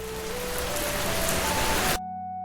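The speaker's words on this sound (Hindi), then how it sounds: "एक दिन गांव में भयंकर बारिश आई।" Heavy rain falls on a village in a dense, steady hiss of drops on surfaces that holds at an even loudness for about two seconds, then cuts off abruptly, leaving only a faint tonal hum.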